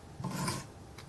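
A knife blade drawn across a Wicked Edge sharpener stone set at 16 degrees per side, giving a soft, close rasping scrape that swells and fades in one stroke.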